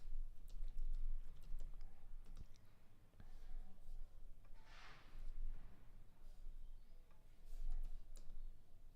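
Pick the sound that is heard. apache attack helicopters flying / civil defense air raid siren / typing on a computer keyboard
typing on a computer keyboard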